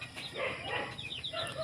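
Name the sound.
roosters crowing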